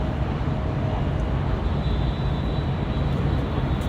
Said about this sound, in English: the Emirates A380 in the Journey to the Future livery is currently taxiing out to 25 left